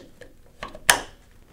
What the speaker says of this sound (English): Then reinstall the battery sleeve.